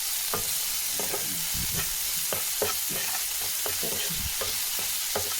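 Tomatoes sizzle steadily in a pan for dal curry with turmeric and salt, while a spoon scrapes and stirs in repeated near, irregular strokes over the continuous frying hiss.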